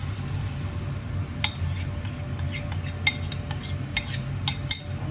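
Sauce is added to shrimp and broccoli and stirred in a pan, with sharp metallic clinks of a utensil against cookware repeating irregularly over a low background hum.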